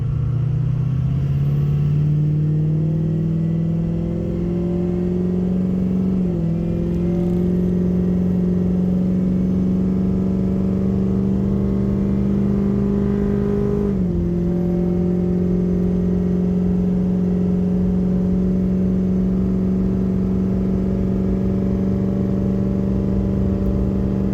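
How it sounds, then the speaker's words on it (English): A turbocharged car fitted with an aftermarket intake accelerates up to 60 mph on a road near roundabouts. Its loud, steady engine drone rises in pitch, with two gear-shift dips, and no one talks. "Be accelerating up to 60 again."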